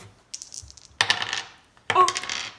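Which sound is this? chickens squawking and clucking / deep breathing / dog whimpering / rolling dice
rolling dice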